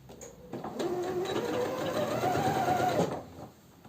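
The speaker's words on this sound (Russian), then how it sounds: "И именно от него начинаем стачивать сантиметровым швом." A sewing machine runs steadily for about two and a half seconds, stitching a one-centimetre seam on women's trousers with straps; a close, continuous mechanical whir that starts and stops cleanly, with no talking.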